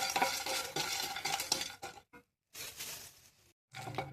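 Dry spices roast in a pan for South Indian sambar powder as a metal spoon stirs and scrapes them, in quick repeated scratchy bursts broken by two short silences.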